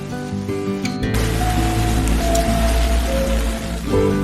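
Rain falling in a dark forest, a steady dense patter and hiss that sets in after a second and holds loud and continuous, with scattered ticking drops and no voices.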